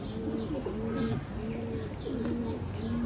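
A Ferozpuri pigeon coos in repeated soft, low rolling calls, close by, with faint background noise and a murmur of voices beneath.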